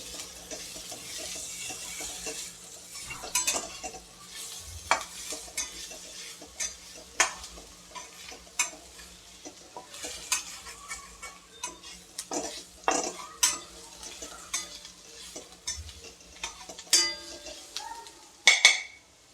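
A spoon stirs red chilli powder and coriander-cumin powder into sizzling dal in a pot, with repeated sharp metallic clinks and scrapes over a low, steady frying hiss, close up with no talking.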